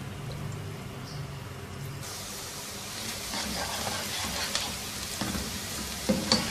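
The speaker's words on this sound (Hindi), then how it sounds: "तेल गरम हो जाए तो इसमें एक बड़े साइज़ का प्याज स्लाइसिस में काट के डाल देंगे।" A large sliced onion fries in hot oil for Peshawari namkeen gosht, a faint sizzle that swells to a fuller hiss partway through, with a few light stirring clinks near the end.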